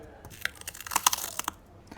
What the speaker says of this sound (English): Okay, let's try a deep ice crunch.